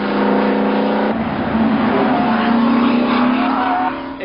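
A Mercedes-Benz W196 front-engined race car drives past with a loud, close engine note that shifts pitch as it revs and changes gear, the sound sustained before easing off at the end.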